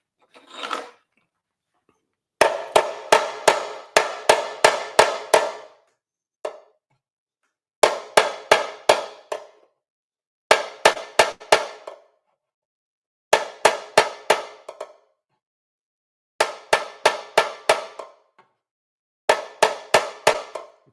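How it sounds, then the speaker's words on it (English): A hammer tapping on a dolly during metal bodywork on a tank rings out in loud, rapid bursts of sharp metallic strikes, about six to eight hits per burst, separated by short pauses and repeated many times with no talk. "I'm going to do hammer on dolly"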